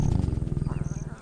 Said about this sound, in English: Sometimes Baba will give me roaring lessons